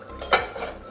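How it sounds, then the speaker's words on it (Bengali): A metal lid lifts off a cooking pot, producing one brief clattering knock followed by a short ringing scrape, close and fairly loud, with no talking. "আবারও ঢাকনাটা খুলছি"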